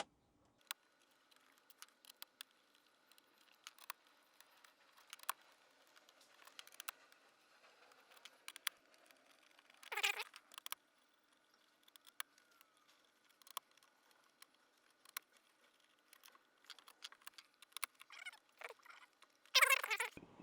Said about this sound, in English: So start by taking out all 12 of the factory trim screws.